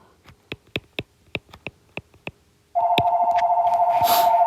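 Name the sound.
telephone ringing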